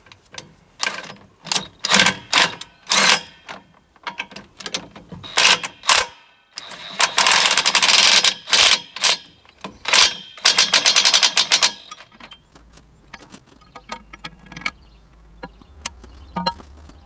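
A ratchet drives a bolt into a tractor, giving rapid clicking bursts in short runs with pauses between, close and fairly loud, ending in quieter scattered clicks.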